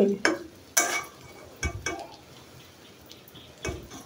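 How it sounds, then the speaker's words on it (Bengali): Egg frying in a pan, with scattered spatula clinks and scrapes over a faint sizzle, quiet between the hits. "এই যে ডিম ভাজিটা হয়ে গেল, ভালোভাবে একটু ভেজে নেব ডিমটা"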